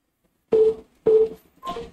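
A dropped phone call gives way to a telephone line tone, three short evenly spaced beeps over near silence, the last one softer.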